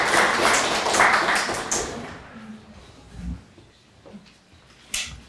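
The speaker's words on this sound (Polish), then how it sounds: "Brawa." Audience at a school debate competition claps for a speaker, a dense burst of applause that fades within about two seconds, followed by scattered taps, shuffling and a few isolated claps.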